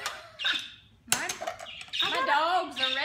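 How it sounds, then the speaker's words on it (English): Pet birds in a home kitchen chatter and squawk noisily, close and loud, in quick bursts of shrill chirps and calls filling the short stretch. "They are happy. That's why they make all that crazy noise."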